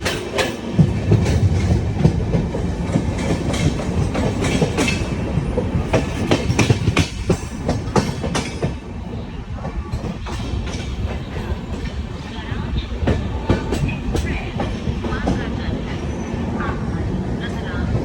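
Swaraj Superfast Express passenger train running on rails, with steady rolling rumble and repeated clickety-clack wheel beats throughout, loud and close from inside the coach.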